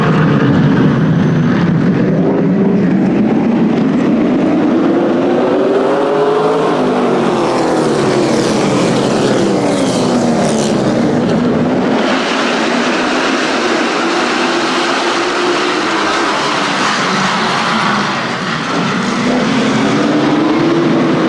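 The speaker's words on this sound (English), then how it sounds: "the fans can enjoy the sounds of these race cars" Race cars at Flamboro Speedway roar loudly and continuously, engines rising and falling in pitch as they accelerate and pass on the oval, with no voices.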